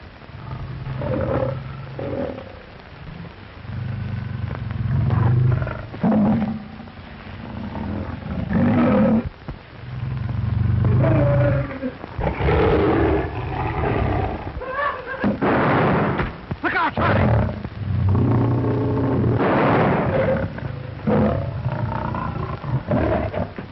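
Lions in the African bush roar repeatedly, deep loud rumbling calls in long bursts with sharp cracks and pops between, some overlapping, recorded on an old scratchy film track.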